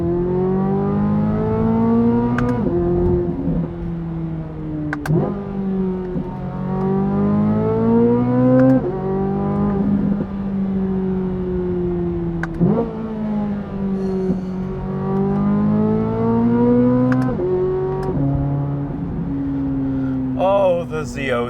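A 2023 Corvette Z06 with a naturally aspirated flat-plane-crank V8 hums steadily, its pitch rising and falling through repeated revs over about twenty seconds, loud and close with no talk.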